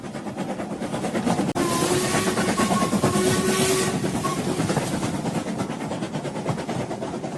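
Train rolling along rails as an audio drama sound effect, a steady loud rumble with rhythmic clatter, a sharp knock near the start and brief whistle-like tones, no voices.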